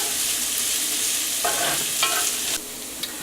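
Onions and bell pepper sauté in a hot pan with a steady, close sizzle. Brief scraping stirs break through the hiss every so often.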